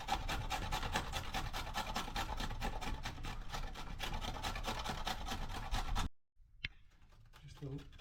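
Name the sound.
grating carrot by hand on a grater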